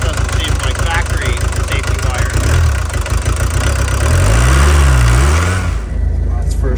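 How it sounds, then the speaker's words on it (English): A VW Vanagon Doka van engine idles loudly with a rough, puffing exhaust rhythm from an exhaust leak, then settles lower near the end. "there's an exhaust leak somewhere up there. It is idling now."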